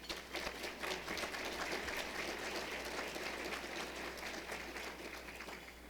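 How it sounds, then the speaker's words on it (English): Steady applause from a large audience at a roundtable luncheon talk, sustained throughout with dense clapping at an even level. "Let's give them a round of applause."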